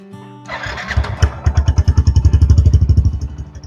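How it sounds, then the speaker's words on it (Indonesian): A 2012 Yamaha Byson motorcycle with a drilled-out, racing-style loud exhaust starts up close by and settles into a rapid, loud, popping idle with harsh, regular exhaust pulses. "cuman masalahnya knalpotnya ini dibobok. Jadi gua nggak suka kayak racing gitu, berisik banget gak sih."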